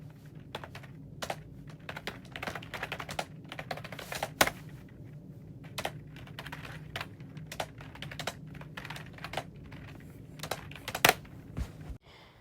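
Quiet, close typing on a computer keyboard in a calm doctor's office setting, with irregular runs of soft key taps and a few sharper clicks across the whole stretch, with no one talking.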